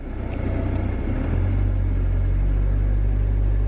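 Road noise fills a campervan's cabin as it drives, a steady loud low rumble and engine drone heard from inside that settles into a constant hum after a slight shift, with no talking.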